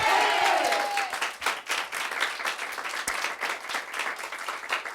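A church congregation at a Sunday morning service claps together in sustained applause, a dense patter of many hands filling the room, with a brief tone fading at the start.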